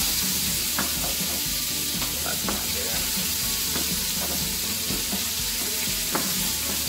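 Chunks of bacon sizzle and fry steadily in a pan, a continuous crackling hiss with occasional sharper pops and scraping stirs, close and moderately loud with no talking.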